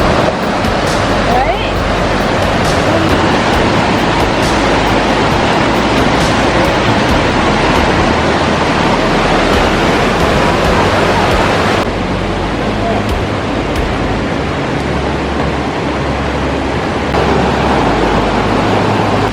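Waterfall at Chae Son National Park in Thailand, water plunging into a pool one to five meters deep, giving a loud, steady, unbroken rushing roar that fills the whole stretch.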